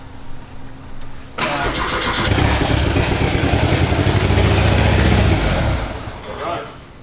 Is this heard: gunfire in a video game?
no